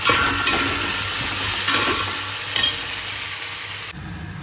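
Loud, close sizzle of onions frying, with scraping stirring strokes in a pan, continuous until an abrupt drop near the end.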